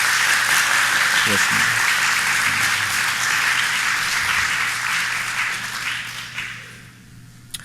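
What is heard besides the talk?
congregation applauding fathers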